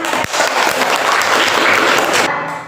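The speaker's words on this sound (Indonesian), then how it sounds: "Berikan tepuk tangan." Schoolchildren clapping together in a classroom after a group presentation, loud and dense for a couple of seconds before cutting off abruptly.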